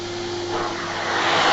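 A household vacuum cleaner drones steadily at close range, its whining motor growing slightly louder toward the end, with no voices.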